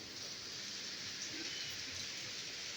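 Steady rain falling outside a house, a continuous broad hiss of moderate, even loudness throughout with no voices.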